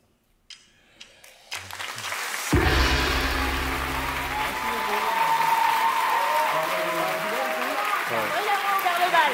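An audience applauds a contestant at a national science-talk final. The clapping starts with a few scattered claps, then swells into steady, sustained applause, with voices and cheering mixed in throughout.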